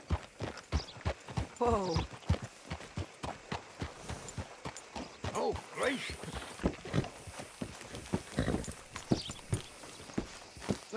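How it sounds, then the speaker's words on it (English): Horse hooves clip-clop in Red Dead Redemption 2 as a rider slows and stops the horse, the uneven steps close and clear, while someone speaks briefly over them. "Hitch your horse up here."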